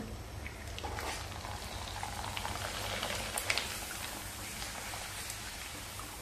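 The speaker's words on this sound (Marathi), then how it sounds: "तेल आता चांगलं गरम झालेलं आहे. आपण पापड घालूया." A rice-flour papad fries in hot oil in a kadhai, giving a steady, fine crackling sizzle like light rain, close and fairly quiet, with no talking.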